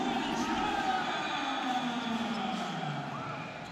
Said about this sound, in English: This crowd is going nuts!